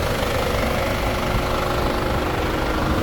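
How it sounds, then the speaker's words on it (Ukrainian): A Chevrolet Captiva engine idles steadily and close, a constant low rumble with a faint whine, with no pauses or talk. "працює наш двигунчик"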